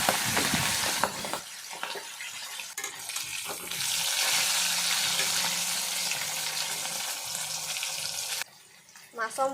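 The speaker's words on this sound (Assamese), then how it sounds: "তেল মোৰ গৰম হৈ গ'ল, এতিয়া মই মাছৰ মূৰাফাল ভাজি ল'ম।" A fish head sizzles and crackles in hot oil in a karahi over a gas stove, a loud continuous hiss with a few clatters of a utensil at the start.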